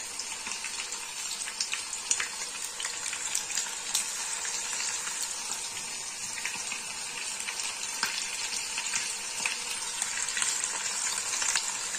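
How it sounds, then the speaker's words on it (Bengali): Kachki fish fritters, shaped like onion pakoras, deep fry in hot oil with a dense, steady crackling sizzle and occasional sharper pops, continuing for the whole stretch without speech. "আমি আপনাদের দুটো ডিপ ফ্রাই করে দেখাচ্ছি"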